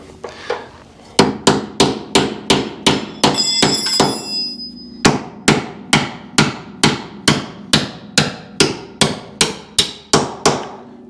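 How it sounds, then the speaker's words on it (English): A car motor mount being hammered into place on a Camaro: a steady run of about twenty sharp, loud metal hammer strikes in even rhythm, close by, with a brief pause partway through and no talk. "Is there a hammer? Just to kind of get it in there."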